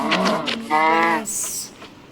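A buffalo moos in a Minecraft-style video game, one low drawn-out call that is loud and near, followed by a short hissing game effect.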